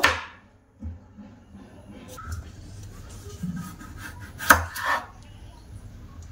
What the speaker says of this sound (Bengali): এবার আমি আলুগুলো কেটে নেব, চৌকো করে কেটে নেব।